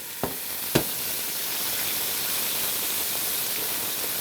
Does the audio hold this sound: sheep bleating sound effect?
no